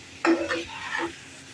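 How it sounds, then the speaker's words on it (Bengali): A spatula scrapes through a spiced curry of fried soybean chunks, squash and potato in a pan: two short stirring strokes, close and moderately loud, over a quiet kitchen background. "ভালো করে নাড়িয়ে নিচ্ছি।"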